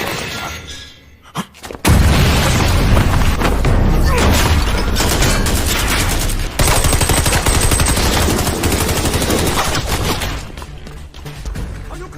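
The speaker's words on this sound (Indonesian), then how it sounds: "sehingga adegan baku tembak pun terjadi" Heavy gunfire rips through a film shootout scene as a sniper and a squad of troops trade shots, loud sustained rapid bursts with crashes and booms that run almost nonstop before briefly cutting out and easing off.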